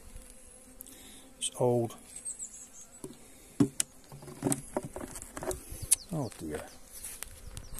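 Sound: bees buzzing around a beehive

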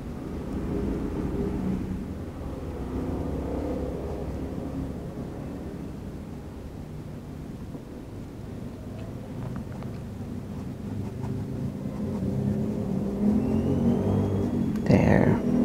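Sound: motorcycles passing by

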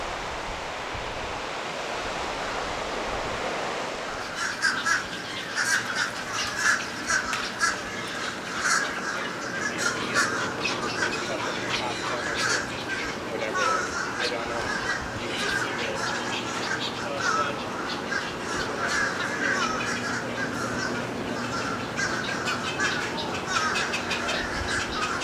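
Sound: birds calling at the seashore

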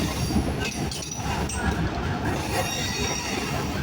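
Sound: Rajbari Mail train entering loop line at junction station

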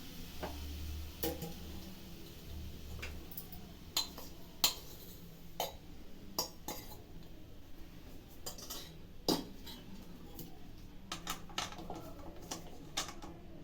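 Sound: mixing rusk powder in a pan

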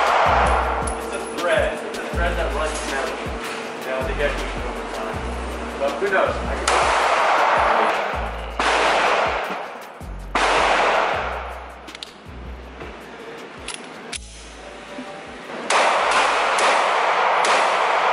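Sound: gunshots at a shooting range

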